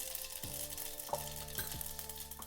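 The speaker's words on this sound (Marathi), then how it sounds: "मोहरी तर तडली का लगेच जिरं टाकून घ्यायचं" Cumin seeds dropped into hot oil where mustard seeds are already spluttering, tempering spices for a quick vegetable dish; a soft continuous sizzle with scattered crackles and pops, close by and without talk.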